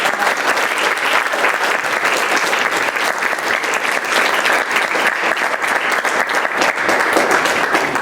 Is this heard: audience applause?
yes